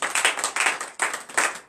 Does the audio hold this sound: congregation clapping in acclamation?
yes